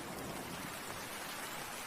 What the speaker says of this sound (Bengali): এই বৃষ্টি যদি কম না হয়